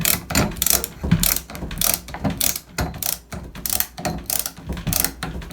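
A Phillips screwdriver drives a screw into a plastic toggle anchor in a hollow door, giving a steady run of close, rhythmic ratcheting clicks in repeated bursts with no talking.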